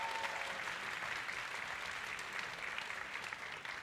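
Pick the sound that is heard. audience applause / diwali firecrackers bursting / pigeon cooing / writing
audience applause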